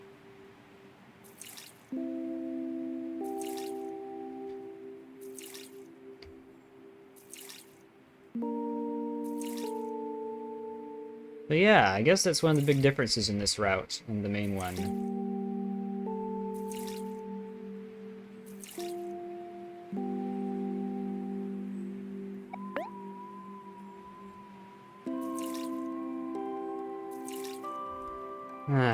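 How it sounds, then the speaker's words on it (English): Repeated flower watering in the video game OMORI: a string of short bright drips over soft chiming game-music tones, with a louder, busier burst of splashing in the middle and a voice talking briefly partway through. "And to think we had to water all those other flowers, too."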